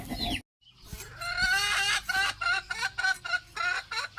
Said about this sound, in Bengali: এই মুরগিটা অনেক দিন পরে আসলো আমার পাশে